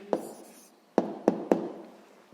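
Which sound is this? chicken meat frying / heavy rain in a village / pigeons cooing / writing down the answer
writing down the answer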